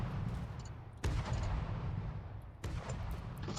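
Turret guns in a robot battle video game fire as heavy booming blasts, with two sharp bursts standing out over a dense, continuous rumble of gunfire and no talk.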